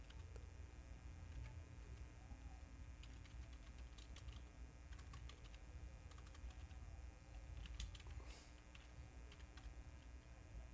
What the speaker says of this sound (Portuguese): eu vou digitar um valor